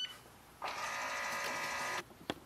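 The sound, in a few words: Canon Pixma G7020 printer powering on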